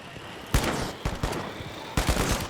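Bursts of rapid gunfire in several volleys from the video game THE FINALS, loud and close, with echoing cracks between them and no talking.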